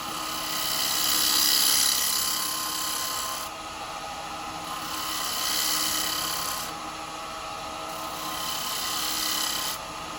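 Carbide chisel cutting a wooden bowl spinning on a lathe, a continuous rasping scrape that swells and fades in several long passes while tapering the rim, close and loud with no speech.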